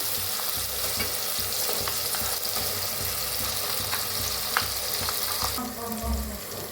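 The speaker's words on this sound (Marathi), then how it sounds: "मसाला हलवून घेऊया हलवून छान असा भाजून घेऊया तेल सुटूस तर भाजलाय बघा" Masala roasting in oil in a pan for a spicy chicken gravy, a steady loud sizzle with scraping stirring strokes throughout, alone without talk.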